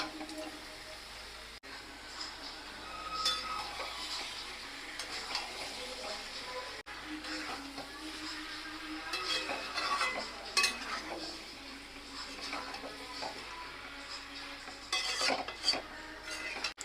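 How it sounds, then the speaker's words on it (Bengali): Fried chicken pieces hit a hot pan for Bengali gondhoraj chicken kosha, followed by spoon scrapes and clinks of stirring over a soft continuous sizzle, close and moderately quiet. "ভেজে রাখা মাংসটা দিয়ে দিচ্ছি।"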